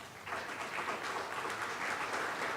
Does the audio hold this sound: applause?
yes